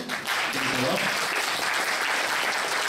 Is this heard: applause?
yes